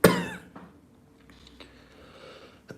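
A single loud, harsh cough right up close, followed by quiet room noise with a few faint clicks.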